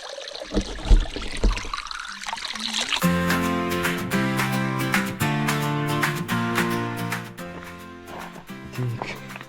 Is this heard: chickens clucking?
no